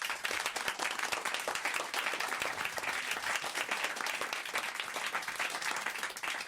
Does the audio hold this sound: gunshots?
no